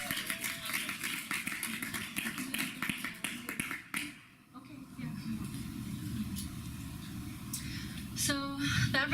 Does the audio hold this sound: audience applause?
yes